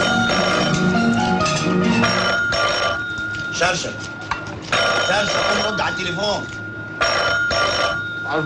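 An old telephone bell rings in repeated loud bursts with short pauses between them, close by and partly overlapping a voice in a 1972 Egyptian film scene.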